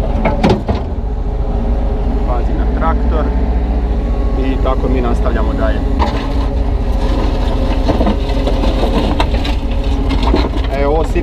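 A Kubota 3.5-tonne mini excavator loads its bucket, its engine droning loud and steady close by the whole time, with clanks and bursts of hydraulic strain on top and what may be a voice now and then.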